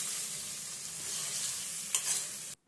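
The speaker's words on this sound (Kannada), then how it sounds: "ಇದನ್ನು ನೀಟಾಗಿ ಫ್ರೈ ಮಾಡ್ಕೊಳ್ಳೋಣ." Chicken fries in a pan with a steady, soft sizzle and hiss, a couple of brief stirring scrapes near the end before the sound cuts off abruptly.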